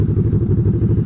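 A motorcycle engine lugs at very low revs and nearly stalls, with a close, uneven chugging thump that pulses rapidly and steadily throughout.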